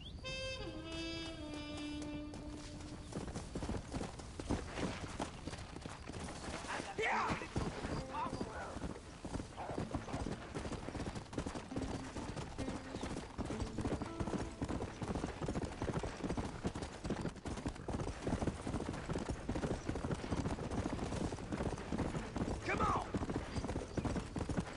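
Galloping horse hooves in the Red Dead Redemption video game, a steady rapid clip-clop running throughout under occasional game sounds and someone talking over it.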